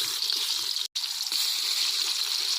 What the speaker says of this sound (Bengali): তেল গরম হয়ে গেছে, মাছগুলো ভাজে নেই।